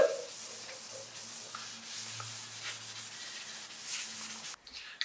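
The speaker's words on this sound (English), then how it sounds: "we're sanding into the other paint so that it will stick" Steady scratchy sanding strokes rub back and forth over a painted Ford Ranger bumper, close up, with a low hum underneath and no talking.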